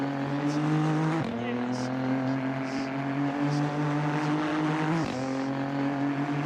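Aston Martin and Audi race cars in Assetto Corsa, a racing video game, roar with steady high engine notes that drop sharply at two gear shifts, loud and continuous under faint talk.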